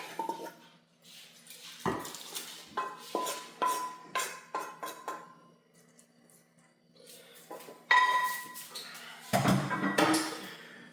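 Mixed vegan instant ramen tipped into a bowl, giving a series of irregular clinks, knocks and scrapes of dishware at close range, with a louder cluster of clatter toward the end and no voices.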